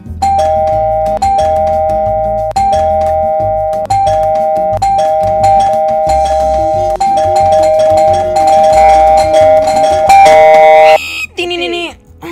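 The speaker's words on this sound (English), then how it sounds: "So many bells are ringing." Doorbells ringing over and over in the Roblox Bloxburg game, a steady chain of bright electronic ding-dong chimes. The chimes overlap and grow busier toward the end, and some talk and game music sit underneath.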